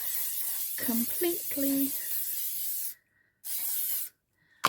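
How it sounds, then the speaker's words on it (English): Hairspray is sprayed onto a ribbon hair bow in long, close hissing bursts separated by short silences. Someone talks over the first part. "spray it so that you have hairspray on every bit of that bow"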